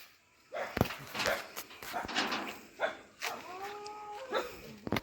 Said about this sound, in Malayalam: പട്ടിയെ കെട്ടിട്ടേക്കോ പട്ടിയെ കെട്ടിട്ടേക്കോ